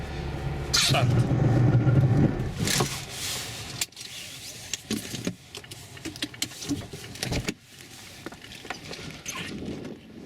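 A car brakes hard from 50 km/h on a wet road on Dębica Frigo HP2 tyres. A loud rush of tyre and water noise over the first two seconds fades into quieter road and cabin sounds with scattered knocks.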